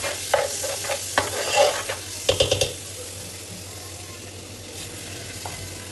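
Chicken pulao in a pot gets stirred with a spoon, giving bursts of scraping and clattering over a soft frying hiss, then a quieter stretch of low sizzle.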